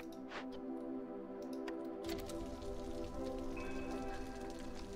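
Steady rain patters in the video game Against the Storm, a soft continuous hiss under a layer of tonal game music and a few faint clicks.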